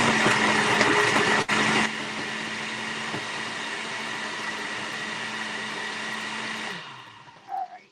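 A blender's loud, steady whirring motor grinds continuously for several seconds, then cuts off, leaving a brief faint rattle at the end.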